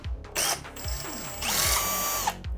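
A power drill whirs loudly in several bursts on rusty screws of a Suzuki Katana motorcycle, its motor pitch rising and falling as it bites and spins, close by with no talking.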